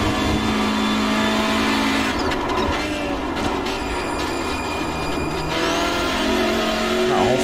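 A front-wheel-drive Hyundai Veloster N TCR touring car drives in the iRacing sim, its engine a constant loud drone with shifting pitch and brief tyre squeals, close and continuous.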